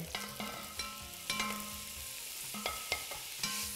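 Onions, carrots, celery and garlic sweating in a pan over medium-low heat, a soft steady sizzle under occasional clinks and stirring scrapes.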